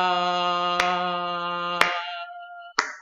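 Three sharp single claps keep time for a music notation lesson on note durations, evenly spaced about a second apart, heard close over a sustained held tone that fades after the second clap.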